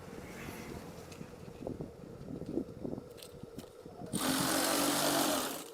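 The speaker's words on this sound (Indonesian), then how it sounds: "Lipat, lihatlah, lipat kemudian jahit." A sewing machine stitches folded curtain fabric, first as faint soft mechanical rattling and handling noise, then as a louder steady whirring run near the end.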